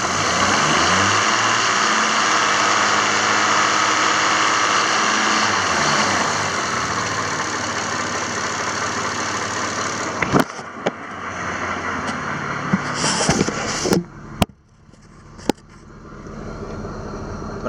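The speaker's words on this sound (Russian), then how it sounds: "Работа двигателя на высоких оборотах." Chevrolet Epica (2006–2012) engine revved high, a loud steady mechanical roar with constant tone that drops after about six seconds, then settles into a lower running sound broken by a few sharp clicks and knocks.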